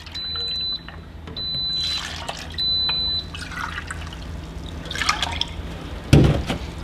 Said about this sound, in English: I'm just gonna put 2 cups of milk in